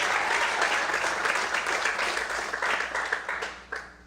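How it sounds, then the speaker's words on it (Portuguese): A church congregation applauds in praise at an evening service, dense sustained clapping heard close and loud that thins slightly toward the end. "Você pode aplaudir a nome de Deus."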